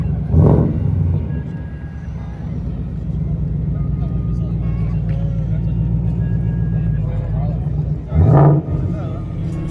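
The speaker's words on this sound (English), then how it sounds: "This is just the Mustang leaving the show now" A Ford Mustang pulls away from a cars-and-coffee supercar meet, its engine rumbling steadily and loud close by, with a sharper rev burst near the start and again near the end; speech is mixed in.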